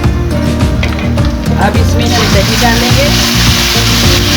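Golden-brown fried onions sizzle loudly in a pan, and the hiss swells into a brighter, stronger frying roar as yogurt is added for mutton paya curry, with a voice talking underneath.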